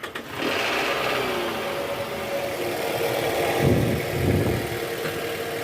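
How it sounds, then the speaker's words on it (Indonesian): A Toyota Alphard engine idles with a steady low rumble, then growls louder in two short revs near the end, with a snoring noise from the engine under throttle. "dia digas ada bunyi ngorok di bagian mesin guys"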